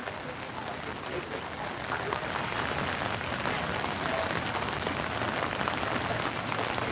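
Steady rain falls outdoors on an umbrella and surroundings, a dense continuous patter that stays at an even, fairly loud level throughout with no voices.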